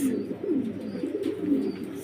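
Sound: pigeons cooing

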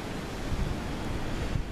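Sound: wind blowing

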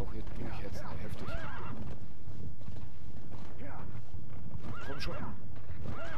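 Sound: horse neighing and galloping in video game Metal Gear Solid V

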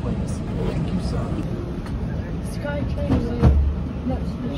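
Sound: airport people mover train departing

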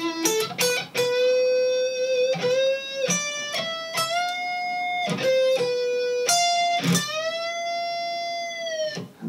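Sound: out-of-tune electric guitar string bends

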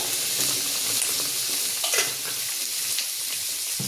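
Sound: spinach mixture frying in oil

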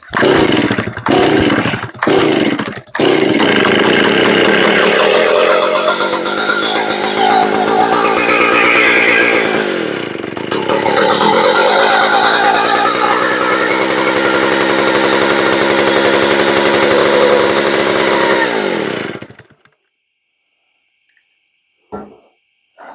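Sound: Stihl 041 chainsaw starting up and running

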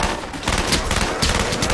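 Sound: G11 automatic rifle gunfire from a zombie video game

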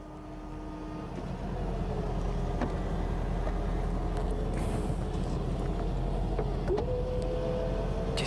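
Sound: Mercedes and Jaguar XK convertible roofs closing

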